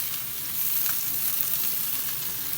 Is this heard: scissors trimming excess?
no